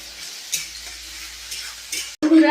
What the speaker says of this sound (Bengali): ডালটা আমার প্রায় ভাজা শেষই হয়ে যাচ্ছে